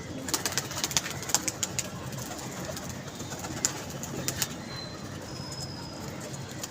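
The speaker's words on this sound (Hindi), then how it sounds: "ये कबूतर उतारी जा रहे हैं।" Pigeons at a pigeon club coo softly from a distance, with scattered wing flaps and faint outdoor ambience.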